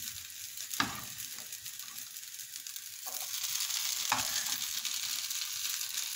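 Vegetable fried rice with peas sizzles steadily in a pan, with a few sharp scraping stirs cutting through the continuous frying hiss.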